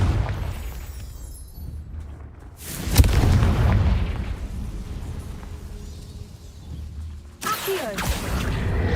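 A Confringo blasting curse goes off in Hogwarts Legacy as a sudden loud boom followed by a long rumbling roar, then a second sharp burst near the end.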